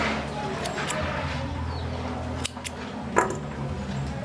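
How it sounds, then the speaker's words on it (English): Scissors snipping off the tail of crochet yarn after finishing a head wrap: a couple of quick, soft cuts close by over a quiet room hum, with no talking. "Cut off your tail"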